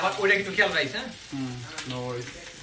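Onions go into hot ghee in a pan, a soft steady sizzle running beneath people talking nearby.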